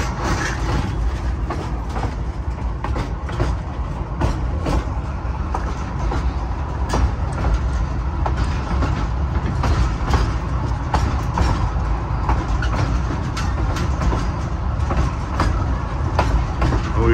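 Narrow gauge steam train on the Cumbres and Toltec Scenic Railroad descending a grade around a curve, giving a steady, loud rolling rumble with rattling cars and scattered clicks throughout, heard close from aboard.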